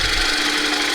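A sharp gouge cuts dense, very dry hardwood, likely while turning plates on a lathe, a continuous close, loud rasping scrape with no pauses and no voices.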